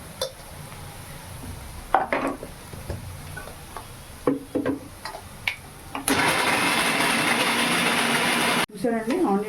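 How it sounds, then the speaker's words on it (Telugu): A mixer grinder whirs loudly and steadily for a few seconds as it blends tomato and cashew, following clinks of pots and utensils and some talking, then cutting off abruptly. "మిక్సీ చేసేసుకుందాం."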